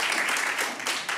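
A comedy club crowd at Friday Night Fights breaks into dense, steady applause and clapping that fills the room without pause.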